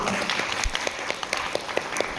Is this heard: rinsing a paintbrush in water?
no